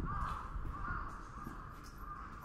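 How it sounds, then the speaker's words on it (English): Crows caw in the distance in Tokyo, Japan, a few drawn-out calls over a low background rumble, faint and somewhat far off. "Those crows sound crazy here in Japan, huh?"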